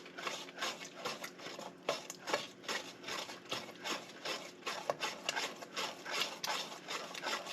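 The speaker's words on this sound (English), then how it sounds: "I'm just gonna whisk it." A whisk beats eggs in a bowl for egg custard, giving a fast, even scraping and clicking rhythm, close and moderately quiet, with no talk.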